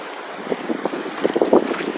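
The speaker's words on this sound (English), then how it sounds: "It's very windy today." Wind blowing outdoors in a garden, a steady broadband rush with gusts that swell and buffet the microphone, loudest toward the end, with no talking.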